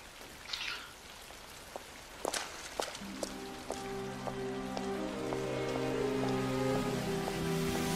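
Rain falling in Call of Duty: Black Ops Cold War, a soft patter with scattered drops and a few light clicks, joined midway by layered sustained tones from the game that swell toward the end.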